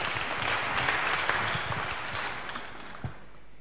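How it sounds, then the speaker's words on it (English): Sustained applause from an audience honouring a Catholic choir, a dense, even wash of clapping heard alone that fades slightly toward the end. "give an applause to them to appreciate the work that they do."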